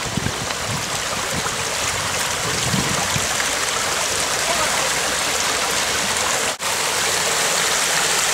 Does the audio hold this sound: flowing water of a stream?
yes